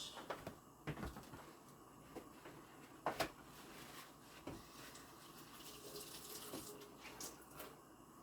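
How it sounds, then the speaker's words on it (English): Tap water running steadily into a kitchen sink to rinse a dirty counter, a continuous hiss with a few sharp knocks and clatters of dishes or cupboard doors along the way, recorded close and at moderate level. "Counter's getting kind of dirty. I want to give it a quick rinse."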